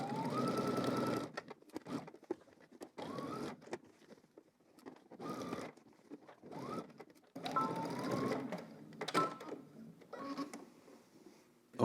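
A sewing machine stitches a polo shirt seam in repeated close bursts of rapid mechanical whirring and clatter, separated by short pauses.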